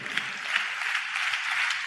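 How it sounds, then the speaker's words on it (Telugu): Congregation at a Telugu church service applauding in praise, a dense steady patter of many hands clapping together for about two seconds. "చప్పట్లు కొడుతూ స్తోత్రాలు చెప్దాం"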